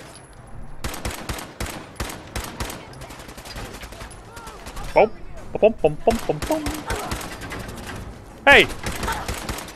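Gunfire in the video game Fallout 4, fought in power armor: dense bursts of automatic and rapid shots fill most of the stretch, loud and close, with a voice shouting over the battle and a few sharper impacts.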